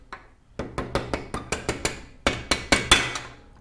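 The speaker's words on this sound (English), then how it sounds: "I'm going to use the butt end of a flathead screwdriver to help send this through." Butt end of a flathead screwdriver tapping a washer and belt pulley through on a 2019 Yamaha Bolt rear wheel: a quick series of sharp metallic knocks, close, speeding up slightly, no voices.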